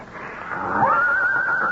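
A blue roan stallion neighs as a radio theatre sound effect, one high, drawn-out whinny that swells in over a soft hiss and holds steady to the end, moderately close.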